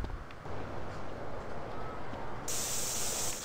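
Steady hissing spray in the video game GTA San Andreas, a continuous spray-paint jet running for a few seconds at even loudness, brightening toward the end, with no talking.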